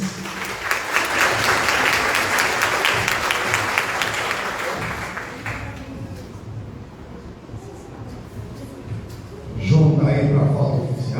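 A crowd applauds at a product launch event with a lively round of clapping and cheering that gradually fades, then a voice speaks near the end.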